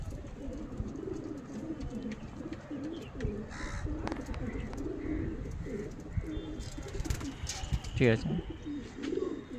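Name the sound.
Mondi white Jiriya pigeon cooing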